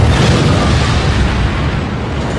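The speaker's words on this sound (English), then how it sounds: "America is about to drop its second atomic bomb in 3 days." The Nagasaki atomic bomb explosion is heard as one continuous, very loud, broad roaring blast that fills the whole clip and fades only slightly by the end.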